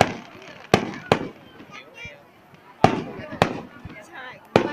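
Fireworks set off nearby, several sharp loud bangs spaced irregularly with crackling between them and people's voices in the background.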